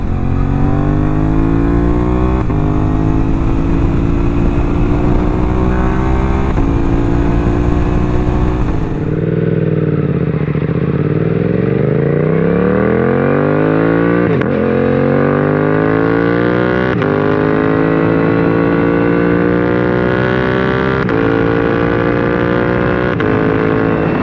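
A 2024 Suzuki GSX-8S motorcycle with a full M4 exhaust accelerates hard through the gears, its loud rasping note climbing in pitch, dropping at each shift, then pulling up again, close and without talk.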